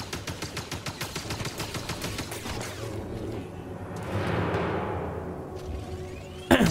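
Rapid chain gun fire in Star Wars Jedi: Fallen Order, a fast run of evenly spaced loud shots that gives way to a rising whoosh of overheating, then a sharp closing hit.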